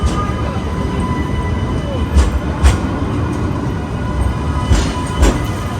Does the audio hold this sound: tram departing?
yes